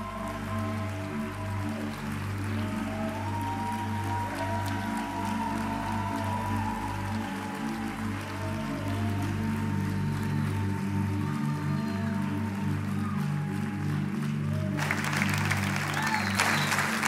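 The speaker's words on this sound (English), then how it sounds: "We couldn't hear what they were saying because you were clapping before we got up here." A church congregation applauds steadily at a Sunday morning service, a dense wash of clapping that holds throughout and swells slightly louder near the end, with no speech over it.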